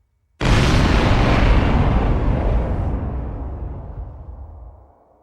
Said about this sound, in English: Let me get this explosion.